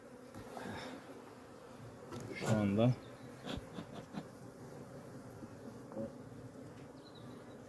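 A low, steady hum of honeybees buzzing in a hive fills the background, with a brief louder burst and a few short words spoken quietly.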